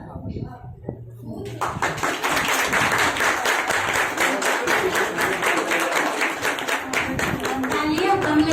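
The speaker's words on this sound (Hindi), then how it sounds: "तालियां कम लग रही हैं।" An audience at a Gandhi Jayanti event breaks into applause, a dense wash of clapping that swells after a brief pause and continues steadily for several seconds.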